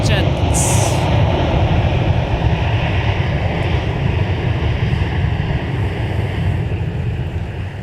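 A NetJets Europe Bombardier Global 6000 business jet at an airport, its engines producing a loud, steady broadband roar that persists throughout without a break.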